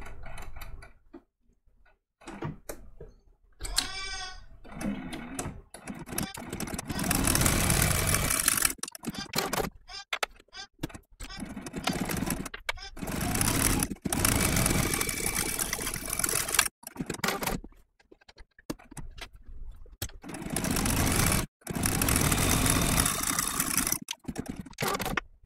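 A sewing machine stitches an appliqué design onto a shirt, a close, fast mechanical whir that runs in long bursts and stops abruptly again and again.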